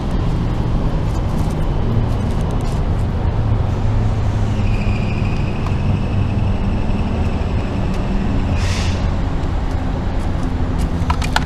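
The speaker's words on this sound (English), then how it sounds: "I'm going to go ahead and inflate my tire" A 12-volt plastic tire inflator pumps up a car tire, a steady loud mechanical drone with a rough buzzing edge that runs without pause throughout.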